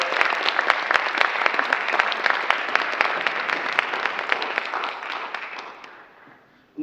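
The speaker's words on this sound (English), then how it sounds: "give him a round of applause for him" An audience at a jazz concert applauds a musician with dense, continuous clapping that tapers off and stops near the end.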